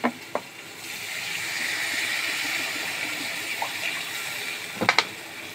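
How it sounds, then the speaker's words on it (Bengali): Water pours in a steady rush into a pan of fried masala seasoned with turmeric and salt, running for several seconds with a couple of sharp clinks at the start and end. "এবার আমি জল দিয়ে দেব।"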